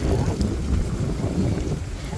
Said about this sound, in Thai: ลมคักพี่น้อง